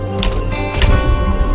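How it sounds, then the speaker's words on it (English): A typewriter being typed on gives a short run of clacking keystrokes over a dense, loud background hum and rumble. "He typed a word on his typewriter."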